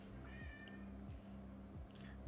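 A cat meows several times in a row, fairly faint and close, over a quiet steady background with no talk.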